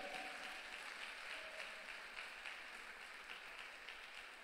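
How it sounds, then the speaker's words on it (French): A church congregation claps in steady, dense applause throughout, sounding somewhat distant and uniform, with no voices standing out. "acclamons pour la gloire de Dieu"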